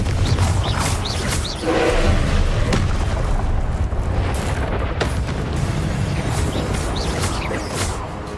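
Spell blasts from the Confringo fire charm in Hogwarts Legacy: loud booming explosions with sharp bursts over a dense, continuous roar of combat.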